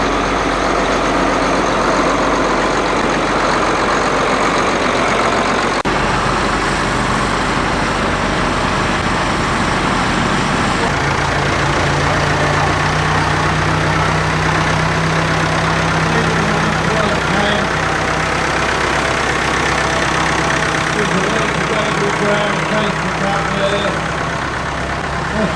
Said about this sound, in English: the lovely tidy tractor with what we call the Scirocco